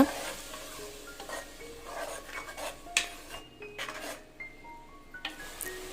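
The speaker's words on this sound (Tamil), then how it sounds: "புதினா விழுதோட பச்சை வாசம்லாம் போகிற அளவுக்கு நல்லா வதக்கிக்கலாங்க" Mint paste sautés in oil in a pan for mint pulao, a soft steady sizzle with repeated scraping and stirring strokes and faint metallic clinks, quiet and close.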